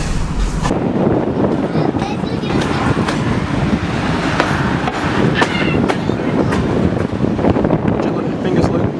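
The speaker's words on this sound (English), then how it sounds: "There's the steam train just come from Sydney Central." A steam train just arrived from Sydney Central rumbles past at Thirlmere, with a steady loud rolling roar, wheel clatter and some wind buffeting on the microphone throughout.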